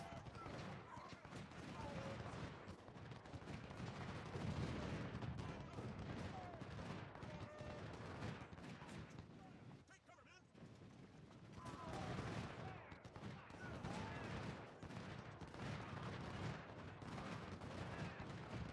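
Infantry volleys crackle in Ultimate General: Civil War, dense overlapping musket fire and distant booms forming a continuous battle rumble, quiet and mixed under faint game ambience, with a brief lull midway.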